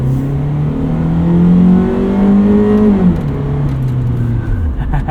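A 1988 Honda Prelude Si with a 2-liter engine and automatic gearbox revs while driving. Its steady tone climbs through a gear, then falls back, loud and close from inside the cabin, with no talking.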